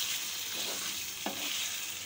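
Rice flour and buttermilk mixture is stirred in a frying pan with tempering, giving a soft steady sizzle with a few scraping strokes of the spatula, faint and close.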